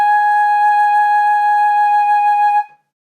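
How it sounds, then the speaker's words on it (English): A flute head joint blown on its own, detached from the rest of the flute, gives one steady breathy tone held for about two and a half seconds before stopping abruptly, close and fairly loud. "This is what a flute head joint sounds like without the rest of the flute attached."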